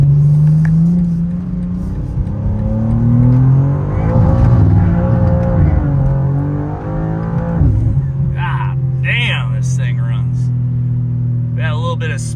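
A 2024 BMW M2 modified to around 750 hp pulls hard in fourth gear, a loud close engine roar climbing steadily in pitch before shifting and settling, with a voice speaking over it near the end.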